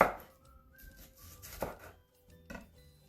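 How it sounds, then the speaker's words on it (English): A knife chops a red onion on a kitchen board, making a few sharp, separate cuts spaced across a quiet few seconds, fairly close. "now I'm gonna chop my red onion really small"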